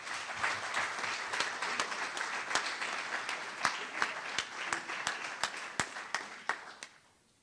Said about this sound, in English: I won't say any more about Lydia Tucker, but give her a round of applause.